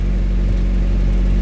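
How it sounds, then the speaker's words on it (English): A car engine idles after a cold start on a setup comparing air/fuel ratio with and without an FMU, a loud, close, steady low hum with an even tone and no voices. "just idling. And that's honestly a cold start, so it should be a little richer right now."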